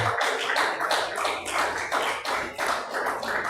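A church congregation claps hard in praise, a loud, steady rhythmic beat of many hands that carries on through the whole stretch without any voices.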